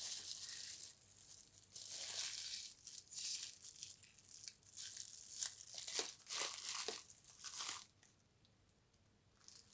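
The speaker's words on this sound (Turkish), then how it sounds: "Poşetin ağzını bağlamadan önce mutlaka şöyle bir pipetle havasını alıyoruz." A plastic freezer bag holding green beans crinkles and crackles in irregular bursts as air is sucked out through a straw, close and fairly quiet, with no speech.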